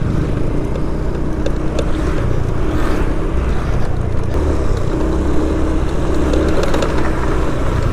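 A car drives past on a quiet shortcut road in Canggu, Bali, its engine and tyre noise a loud, steady rumble close by, with a faint scooter-like whine on top and no talk.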